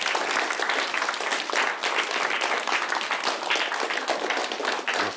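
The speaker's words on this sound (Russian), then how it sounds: "Аплодисменты." Studio audience applauds a guest's arrival on a talk show, steady dense clapping close by, continuous and uninterrupted with no talk over it.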